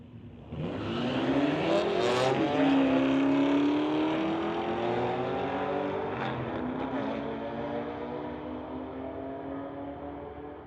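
A BMW and a Cuda launch down a drag strip at a street-legal drag racing night, their engines roaring loudly and climbing in pitch as they accelerate, then slowly fading into the distance.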